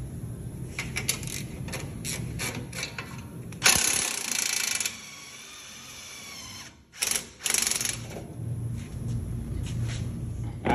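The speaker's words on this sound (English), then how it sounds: "I'm gonna take these three uppers off here, and then I'm gonna take this lower strut bolt off" Rapid ratchet clicking in several bursts loosens the three upper strut mount bolts and a lower strut bolt on a 2017 Nissan Titan Platinum, close and fairly loud, with a short quiet pause between runs.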